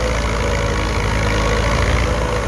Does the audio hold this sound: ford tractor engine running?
yes